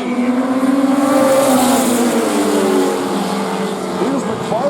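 Race cars on the track, a loud, dense roar of several engines with layered rising and falling pitches as the field comes through the turn, close and continuous.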